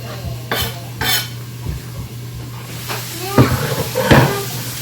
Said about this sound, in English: We're just going to slice them up into some coarse chopped pieces like this.